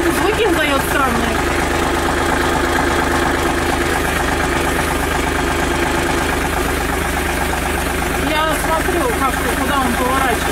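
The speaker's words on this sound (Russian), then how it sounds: "А что за странный трактор?" A tractor engine idles and rumbles steadily throughout, with a loud, continuous mechanical drone and people talking over it.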